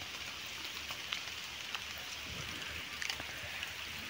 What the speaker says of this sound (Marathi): पाऊस झाला